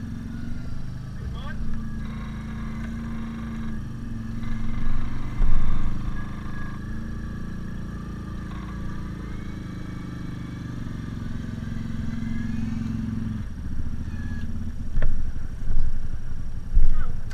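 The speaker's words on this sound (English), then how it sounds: "pull your winch in, Paul" A winch hauls a mud-stuck off-road vehicle on a muddy bypass trail while its engine runs, a steady low drone carrying through the whole stretch with occasional knocks and clatter, and people talk over it.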